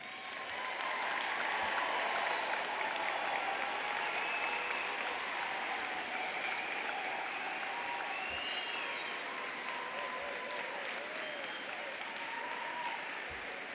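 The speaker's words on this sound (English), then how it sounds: "So let's just give a round of applause right now." Sustained applause from a large audience at a spring university commencement for social work graduates, a broad, even roar of clapping filling the hall for well over ten seconds, with a few faint cheers and whistles rising above it.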